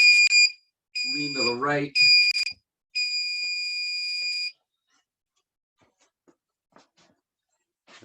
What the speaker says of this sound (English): Ignore this timer that you're gonna hear a big buzz on for a second.